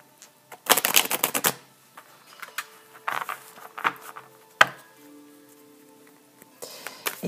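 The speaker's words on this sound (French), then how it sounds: "Je vais mélanger autrement." Large tarot cards are shuffled by hand, with a rapid burst of crisp riffling flutter at the start followed by scattered soft slides and taps, close and alone.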